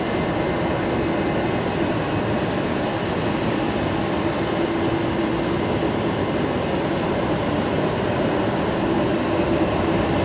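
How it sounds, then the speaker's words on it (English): A Fokker 70 airliner in an all-silver special livery arrives at Brisbane Airport. Its engines give a steady, loud, broad roar throughout, with no voices. "So that's the special livery Fokker 70 just arrived there."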